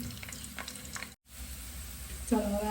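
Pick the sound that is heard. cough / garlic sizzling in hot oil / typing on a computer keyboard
garlic sizzling in hot oil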